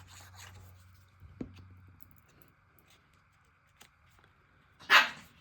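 A dog gives a single short bark near the end, loud against a quiet indoor background with a few soft rustles and scrapes before it.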